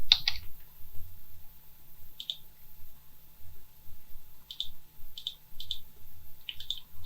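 Computer keyboard typing in short bursts of clicks while entering items into an electrical estimating program, quiet and close with brief pauses between bursts.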